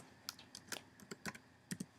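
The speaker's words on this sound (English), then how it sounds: "I'm going to enter the password now." A password is typed on a computer keyboard: about a dozen quick, close keystrokes in an uneven rhythm over two seconds, crisp and fairly quiet, with no voice.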